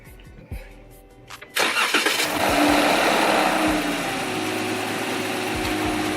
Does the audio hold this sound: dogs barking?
no